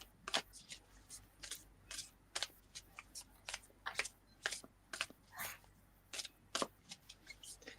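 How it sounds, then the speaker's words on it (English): Playing cards being shuffled close up in quiet, crisp riffling bursts repeating with short pauses between them. "that shuffling of cards"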